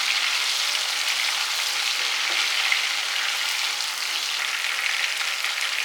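Fresh coriander and mint leaves fry in a pan for a restaurant-style biryani gravy, making an even, moderately loud crackling hiss that runs steadily throughout, with no speech.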